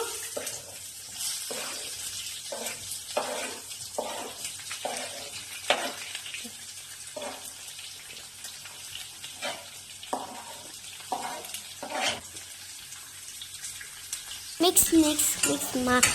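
Chopped onion and green chilli frying in a hot pan for a potato palya, with a steady close sizzle and intermittent stirring scrapes that build toward the end.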